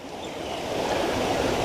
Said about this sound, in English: of the water does clean it out pretty good, but not all the way.